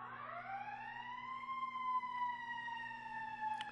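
A wailing emergency siren rises and then holds a steady tone, moderately faint as if passing at a distance.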